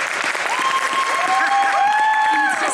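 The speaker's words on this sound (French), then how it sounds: "on peut l'applaudir." An audience claps continuously at a voice-actor conference at a Japan pop culture show in Bordeaux, a steady even patter throughout, with faint tonal whines riding over it.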